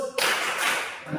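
Several sharp hand claps ring out in a classroom clap routine, a quick burst of claps close by, with voices faintly mixed in.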